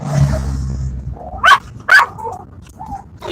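A dog gives two loud, sharp barks close by, spaced about half a second apart, with a low growl beforehand and a few faint yips afterward.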